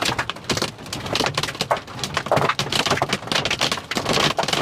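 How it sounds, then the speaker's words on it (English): Inch-sized hail from a supercell storm near Richmond, Virginia pelts surfaces and a car in a loud, dense, irregular clatter of hard impacts, continuous and close. "Yeah, it's turning into an inch of hail."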